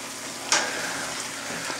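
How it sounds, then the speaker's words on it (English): A brown sugar sauce bubbling and sizzling in a pan gives a steady, close frying hiss, with one sharp crackle early on and faint spatters after. "we want to get this boiling so it breaks down just a little bit and gets like a chutney kind of fashion"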